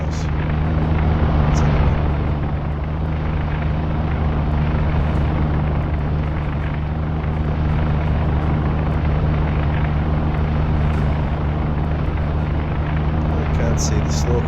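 Aircraft engine drone rumbles continuously overhead in the submarine game UBOAT, a steady low propeller hum with someone talking over it.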